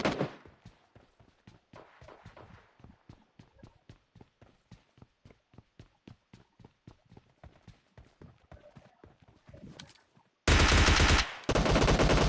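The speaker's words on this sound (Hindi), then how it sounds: "लेफ्ट बिल्डिंग से मुझे बहुत सारे फायरिंग साउंड्स आ गए" M249 machine gun firing in PUBG Mobile Lite, a long steady train of rapid evenly spaced shots, moderately close, ending in a burst of loud, harsh noise.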